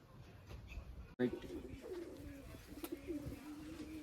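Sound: pigeon cooing

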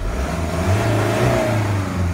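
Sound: car engine revving as the accelerator pedal is pressed

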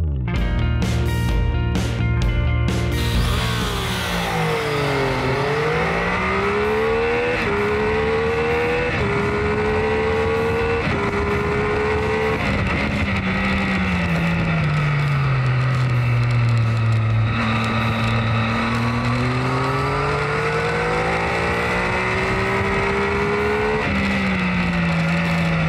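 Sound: motorcycle engine revving

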